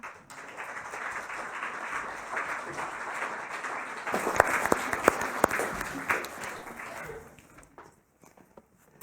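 Warm applause from a youth gathering audience in Norway welcoming a speaker on stage, steady clapping with a few sharper claps standing out before it fades away near the end.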